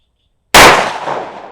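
A Smith & Wesson 686 revolver fires a single sharp, loud shot after a moment of silence, its report ringing and decaying over the following second.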